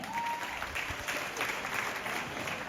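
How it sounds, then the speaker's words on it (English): Students at a Troy High School prize-giving ceremony applauding, a steady wash of many hands clapping at moderate distance, sustained for a few seconds with no clear talk over it. "clap for me."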